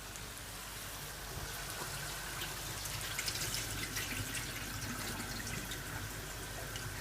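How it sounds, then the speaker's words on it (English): Water runs and splashes steadily as it is drained off about a kilo of rice in a kitchen, a continuous moderate pouring with no talk. "Drain it, drain the water."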